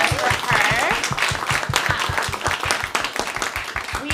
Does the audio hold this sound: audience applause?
yes